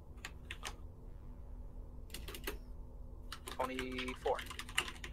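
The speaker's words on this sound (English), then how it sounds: "I can hear someone's typing very easily" Keys clatter in short bursts of typing on a computer keyboard, with a faint voice speaking in the background.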